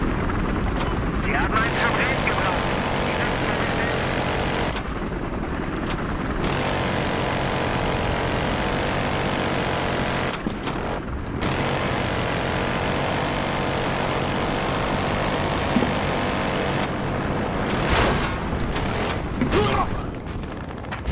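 Helicopter flying in the video game Battlefield Hardline: a continuous, loud rotor-and-engine drone that fills the whole stretch, with brief dips and bursts of gunfire and game effects scattered through.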